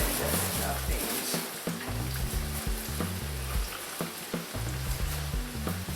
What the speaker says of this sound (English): So you just let these fry for a couple of minutes on each side?